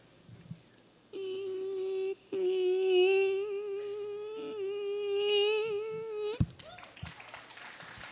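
A performer's voice imitates a mosquito's whine: one sustained, thin nasal buzz with slight wavering pitch, held for about five seconds at moderate loudness with a brief break, then stopping abruptly.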